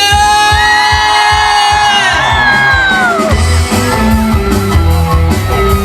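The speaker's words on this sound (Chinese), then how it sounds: "尖叫声！" A crowd at an outdoor New Year's Eve concert in Pingtung, Taiwan screams and cheers loudly, a sustained wall of shrill yells with music pulsing underneath.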